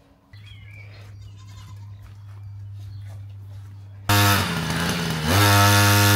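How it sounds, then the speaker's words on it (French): A goat bleats close and loud, with a low engine-like drone running underneath, and the calls grow stronger toward the end. "on entend le bruit d'une chèvre"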